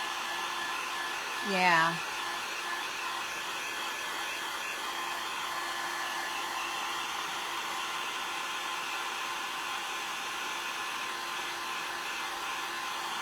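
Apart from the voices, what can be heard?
hair dryer drying paint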